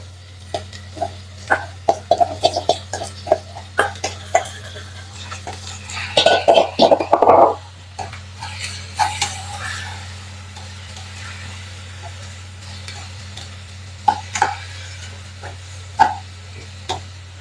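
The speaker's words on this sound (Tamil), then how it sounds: "இந்த எண்ணெயிலேயே கொஞ்ச நேரம் நல்லா கிளறையும் வதங்க விட்டுக் கொள்ளுவேன்" Boiled bitter gourd is stirred in oil in a pan, with a spoon scraping and clattering in irregular bursts, busiest in the middle, over a steady low hum and faint sizzling.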